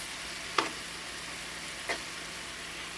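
Beef browning in a pan for stroganoff gives off a soft, steady sizzle. Two brief clicks stand out, one near the start and one in the middle, with no speech.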